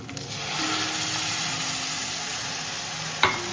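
Hot water poured into spices frying in a pan, a close, loud hissing sizzle that holds steady for a few seconds, ending with a sharp clunk of a utensil or pot.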